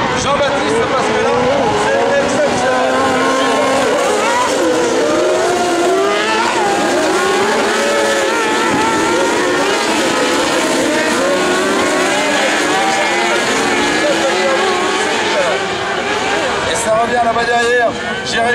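Autocross race car engines at a dirt-track meeting in Saint-Junien, loud and continuous with revving and gear changes as cars pass at a distance, under an excited French commentator talking throughout.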